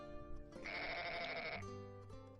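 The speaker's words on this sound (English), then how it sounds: "So yeah, we're going to grab the sheep." A single sheep bleats loudly in the Agricola board game adaptation, a wavering nasal cry lasting about a second over a soft game music tone.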